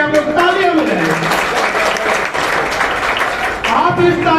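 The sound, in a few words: crowd applause at political rally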